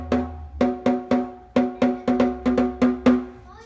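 Snare drum with the snares switched off, a series of hollow, ringing tom-like strokes in an even rhythm with a clear sustained pitch and no wire buzz, close and fairly loud.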